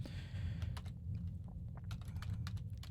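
Quiet clicking of computer keyboard keys, a short irregular run of taps close by over a low background hum.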